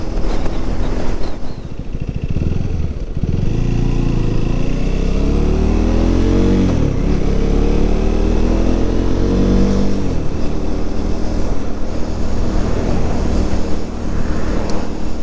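A 2024 KTM Duke 390 motorcycle ridden on a road: the engine drones loudly and continuously, revs rising and falling through gear shifts, with wind rush over it throughout.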